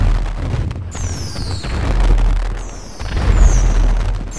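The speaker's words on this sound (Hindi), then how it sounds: "देखो काफी आतिशबाजियां हो रही है" Fireworks and rockets burst in GTA 5 during a Diwali celebration: a steady rumble of deep booms with whistling rockets streaking up twice, loud and continuous, with no talking.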